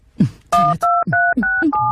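Telephone keypad tones beep in a quick run of about five dual-tone presses, loud and close, separated by brief gaps with soft clicks.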